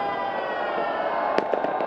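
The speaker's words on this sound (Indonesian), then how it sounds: "Kita masih lihat bagaimana gemerlap cahaya dan kemeriahan kembang api juga masih" New Year fireworks over the Bundaran Hotel Indonesia roundabout in Jakarta, a dense continuous roar from a distance with several sharp bangs bursting out near the end.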